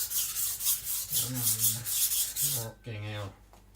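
IKEA Chinese cleaver drawn across a sharpening stone at a shallow 5 to 7 degree angle, rhythmic gritty rasping strokes, close and steady, with someone speaking briefly over the strokes.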